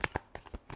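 A deck of tarot cards being shuffled, heard as a few quick papery riffles and flicks spread across less than a second, close and fairly soft.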